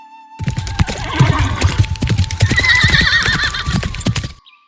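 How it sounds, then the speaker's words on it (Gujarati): A mare whinnies loudly and close while hooves clop rapidly and unevenly beneath it as she is ridden in a circle, ending abruptly. "મહારાજે ઘોડી ઉપર ચઢીને ઘોડીને કુંડાળે નાખી"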